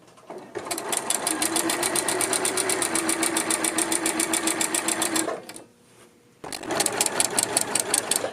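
A sewing machine stitches a seam in knit fabric for a dolman sweater, a loud close, rapid mechanical whir that runs steadily, pauses briefly into near silence, then starts up again.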